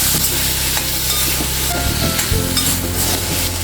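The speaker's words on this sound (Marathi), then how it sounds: "आता हे चांगलं परतून घ्यायचं आहे" Vegetables sauté with sambar masala and red chili powder in a pan, giving a loud, steady sizzle with continuous stirring and scraping throughout, alone without talk.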